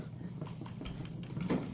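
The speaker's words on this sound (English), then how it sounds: "And let's whisk them a little bit" A whisk clinks and scrapes steadily against a bowl while sriracha is mixed into mayonnaise, a close, light tapping with no voice.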